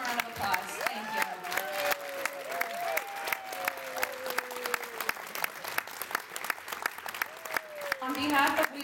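Gala audience applauds the WBEC-West staff and volunteers, scattered claps rising and falling beneath an amplified voice that keeps talking over them, the room swelling louder near the end.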